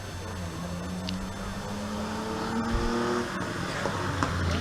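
A 1970s Ford Capri touring car races past at a hill-climb sprint event, engine droning steadily with rising pitch as it accelerates, fairly close and continuous throughout.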